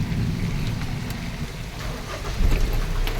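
Heavy rain from a Kalbaishakhi nor'wester storm pours down in a dense, steady wash with a low rumble underneath, loud and close throughout.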